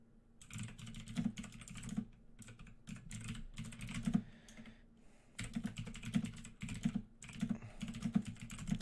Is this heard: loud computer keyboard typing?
yes